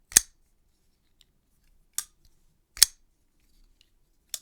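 A US-made Schrade EDC flipper pocket knife snaps open with a crisp metallic click, four sharp isolated snaps spaced about a second apart, close and clear with silence between.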